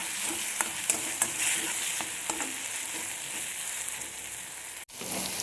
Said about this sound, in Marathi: भात चटकतं आहे आणि सारखं हलवून घ्यायचं